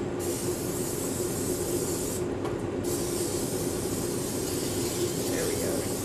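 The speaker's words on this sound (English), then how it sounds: "I'm going to spray our pie pan here" Cooking spray hisses steadily into a pie pan being greased for a butternut squash apple pie, a continuous close spray with a brief pause midway and no talk.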